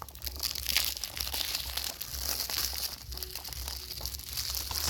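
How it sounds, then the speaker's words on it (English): Thin plastic wrap crinkles and tears as it is peeled off a 4K movie slipcover, close up, in a string of crackly bursts with no talking. "Just kind of take off this plastic now"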